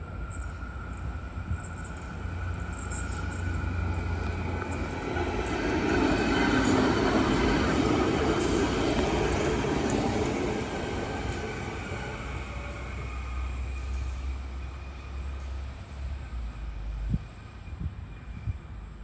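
A Parramatta Light Rail test tram rumbles past close by, its rolling noise swelling and fading, with faint high wheel squeal and a clunk near the end.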